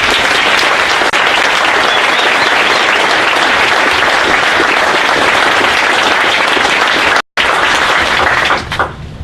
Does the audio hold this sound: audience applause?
yes